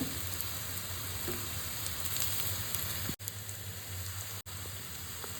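Crushed garlic fries with onion in a pan as a soft, steady hiss and fine crackle, faint and continuous, broken by two brief dropouts.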